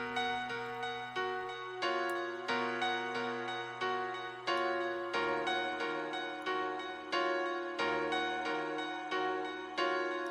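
An FL Keys piano melody rides on top of a looped beat, with bright, plucked notes struck in a steady repeating pattern, each one decaying quickly before the next.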